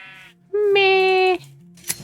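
A sheep in the video game Minecraft gives a single loud, steady bleat lasting under a second, set between quieter background sounds with a soft click near the end.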